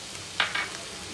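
Capsicum frying in a pan for Indian mayonnaise pasta, two short, soft sizzling bursts over quiet background hiss.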